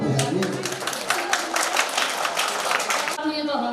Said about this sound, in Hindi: अगर इनकी प्रस्तुति पसंद आई है तो कम से कम तालियां तो खूब बजाइए।